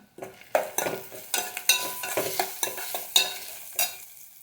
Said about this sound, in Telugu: ఉడకబెట్టిన అరటికాయ ముక్కలు వేసుకొని కొంచెం సేపు కలపాలి